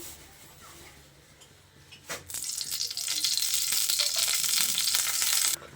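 Ghee heating in a kadhai on a gas stove, a faint rustle that gives way after a couple of seconds to a loud, steady sizzle, close and with no talk.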